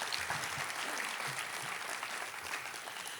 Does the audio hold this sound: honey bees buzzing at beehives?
no